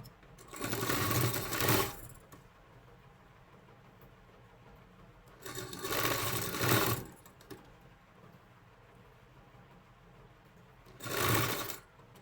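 A sewing machine stitches a half-shoulder sleeve onto a garment in three loud runs of rapid whirring, each lasting one to two seconds and separated by quiet pauses, with no talking.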